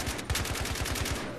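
Rapid automatic gunfire in the shooter game Battlefield 3, a fast rhythmic burst of shots at moderate level lasting over a second with no talk.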